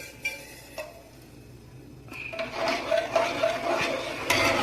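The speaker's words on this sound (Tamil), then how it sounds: "ஒரு 20 நிமிஷம் கை விடாமல் கொஞ்சம் கிளறுங்க." Rice flour batter for rice fryums being stirred in a pot over low heat, with soft scraping and clinking of a spoon against the pot that grows busier and louder toward the end.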